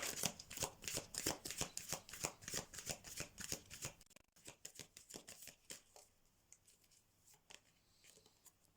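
Oracle cards being shuffled by hand for a tarot reading, a fast run of crisp riffling flutters close up, then slower, quieter card slides and taps trailing off.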